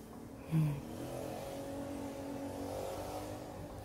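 Motorcycles ride noisily along a street outside an indoor room. A faint engine drone carries on throughout, with one brief louder rev near the start.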